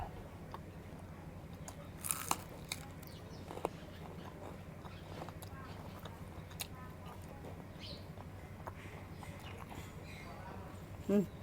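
Crunchy chewing of boiled, tender beef tendon sounds as faint, scattered bites and crunches close to the mic over a steady low background hum.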